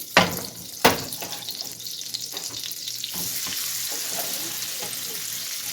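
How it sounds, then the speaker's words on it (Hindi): Potatoes dropped into hot oil and butter in a pan, with two sharp clattering hits at the start followed by a continuous crackling sizzle and occasional stirring knocks. "तो मैंने इसमें अब ऑयल और बटर हमने डाल दिया है। इसके साथ ही इसमें मैं अब डाल दूँगी आलू।"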